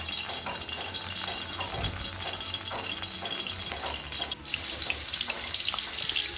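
Water is poured into a pot for cooking Hyderabadi chicken biryani, a steady, close splashing stream that runs continuously with slight surges, fairly quiet and with no talk over it.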